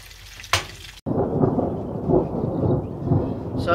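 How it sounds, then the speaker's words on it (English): A sharp crack followed by a rolling, rumbling peal of thunder over steady rain, heard from a houseboat on the River Murray, loud and sustained to the end. "Got a bit of a thunderstorm going on at the moment."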